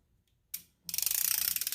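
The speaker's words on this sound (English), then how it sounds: "I recommend getting a ratchet. If you don't have an air gun, get a ratchet that extends just like this one." Close, loud ratchet fitted with an extendable handle and a 14 mm socket, working on a 1990–1993 Honda Accord hub: one sharp knock, then a fast run of even clicks.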